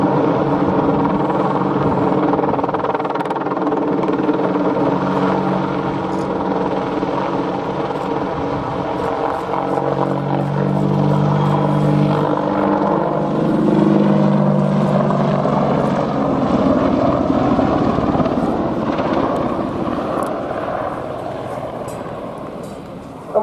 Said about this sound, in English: Establishing in the high hover at 800 feet, you can see the Apache's powerful hover performance.